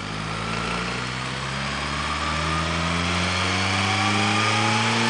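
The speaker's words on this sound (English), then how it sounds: "I'm going to go ahead and give the bike some gas." A 2017 Suzuki GSX-R1000 with its stock OEM exhaust revs up close and loud, the engine note climbing steadily and smoothly in pitch over a few seconds with no talking.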